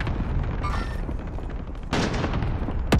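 Gunfire in the video game Warzone, a steady clatter of distant shots with a louder burst and booms partway through, ending with a sharp whistling streak.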